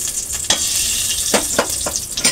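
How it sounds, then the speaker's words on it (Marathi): Paneer frying in ghee in a clay-style Healux pot gives a constant bright sizzle, broken by several sharp scrapes and knocks as it is stirred. "ज्याच्यामध्ये मी पनीर थोडेसे हे फ्राय करणार आहे"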